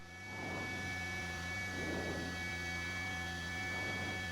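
A helicopter engine smoking heavily in flight gives a steady, distant-sounding drone with faint whining tones, unchanging throughout and without speech.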